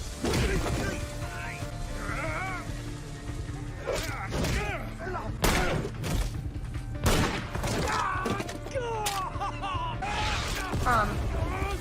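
A musket-like gun fires in a scene from the TV show Black Lightning: several sharp, loud shots ring out at irregular intervals, mixed with talking voices.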